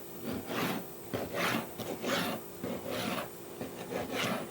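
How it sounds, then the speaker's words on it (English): A knife saws through smoked mini beef ribs in a run of close, rasping strokes, each stroke a short gritty scrape repeated in a steady rhythm with no talk. "Let's go ahead and slice some of these up, shall we?"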